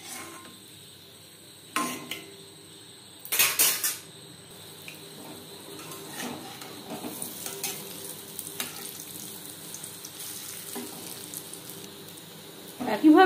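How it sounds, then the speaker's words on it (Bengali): Dahi vada lentil fritters fry in hot oil in a pan, sizzling steadily, while a few sharp clanks of utensils and pans stand out against the bubbling. "একইভাবে প্রত্যেক ব্যাচের বড়া ভেজে নেব"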